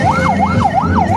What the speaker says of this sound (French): l'ambulance de la Soka Palme.